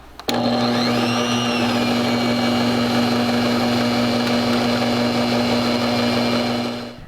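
An electric mixer whirs steadily for about seven seconds, blending cinnamon, ginger and other spices into molasses drop cookie dough, a loud constant motor hum that starts abruptly and fades out at the end.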